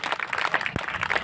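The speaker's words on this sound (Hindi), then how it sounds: "जोरदार तालियां।" Audience applause at a Hindi poetry recital during a spring festival, dense rapid clapping throughout with one sharp thump partway through.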